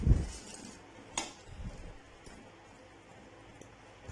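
Golden kadhi pakoras are lifted from a frying pan with a few metal clinks and scrapes of the utensil against the pan, set against a faint, quiet background.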